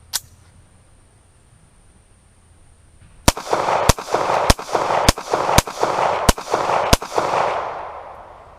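A Star BM pistol is fired at an old heater outdoors, with a single early click followed by a steady string of seven sharp, loud shots at roughly half-second spacing, each ringing into the next, no talk.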